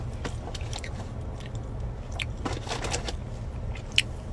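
Crunchy Canadian maple cookies being bitten and chewed up close, with soft crunching and a few sharper crackles over a quiet background, no talk.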